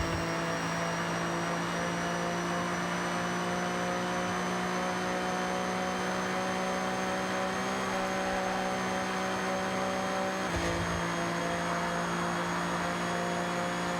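A car engine held at high, steady revs on a dyno run as horsepower builds, a loud continuous drone with a brief dip near the end, no voices.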